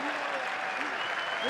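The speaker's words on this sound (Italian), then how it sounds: "Non sono mancati però applausi e cori per la squadra di Pippo Inzaghi." Football fans in a stadium applaud in a dense, steady wash of clapping with crowd voices rising beneath, loud and continuous throughout.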